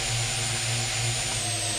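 Drone motors whir in a steady, continuous high-pitched drone as the craft is throttled down and set down to land during flight practice, with no voices.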